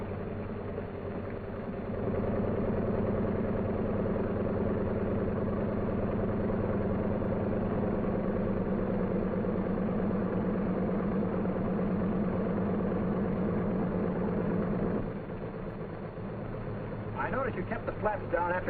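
The piston engines of a WW2 C-47 transport idle at about 1,000 RPM, a steady low rumbling drone with a regular throb, heard under a narrator's voice.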